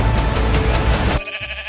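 Sheep bleating in the Minecraft Movie, a single wavering bleat held loud and close for about a second before cutting off into quieter background sound.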